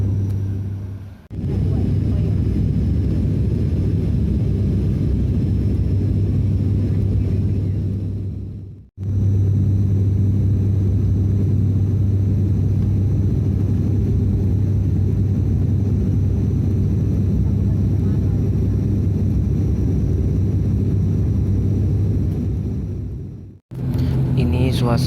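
Steady low cabin roar of an airliner in flight over Palu, continuous and loud with a constant drone, interrupted by a few brief cuts.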